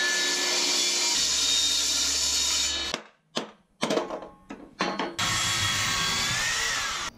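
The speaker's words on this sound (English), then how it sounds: "I'm just going to machine up this piece of teak" A power tool whines loudly as it machines a piece of teak wood, stops briefly for a few short bursts and clatters, then runs steadily again.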